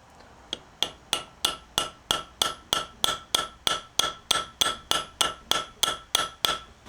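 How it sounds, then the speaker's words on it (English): Ball peen hammer taps a coat hanger wire pin into a knife handle, about twenty light, evenly spaced metallic strikes in a quick steady rhythm, close and fairly quiet, with no talking. "I'm going to get it set down into place with this ball peen"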